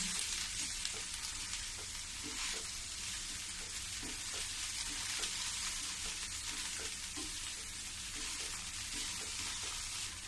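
Watermelon rind halwa with almonds and cashews being stirred in a pan, giving a steady close sizzle with soft repeated scraping strokes and no talking.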